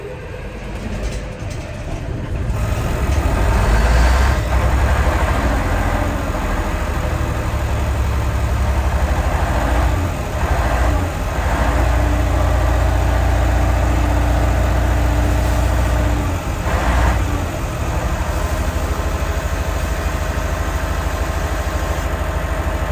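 A bus engine idles close and loud in a steady, low rumbling drone, with a few faint clanks over it and no talking.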